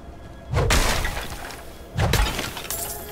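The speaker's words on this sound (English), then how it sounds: "Don't mind me, just smashing up your stuff." Two loud crashing breaks in the video game Diablo 4 as objects are smashed, each a sharp shattering burst with thuds and clattering debris, about a second and a half apart over a low game ambience.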